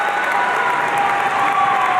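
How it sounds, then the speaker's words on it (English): Applause fills a hall at a university commencement ceremony for graduates of a Master of Nonprofit Leadership and Management program. The large crowd claps steadily and densely throughout without a break. "Let's give a round of applause to the Master of Nonprofit Leadership and Management graduates."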